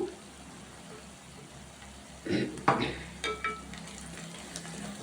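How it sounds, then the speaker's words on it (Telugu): Chopped onions go into a pan of frying bitter gourd for an Andhra-style egg fry, giving a soft background sizzle broken by a few louder clattering stirs and scrapes midway. "అందులో ఒక కట్ చేసి పెట్టుకున్న ఆనియన్స్ యాడ్ చేద్దాము"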